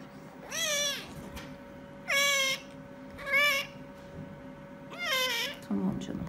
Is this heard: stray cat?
yes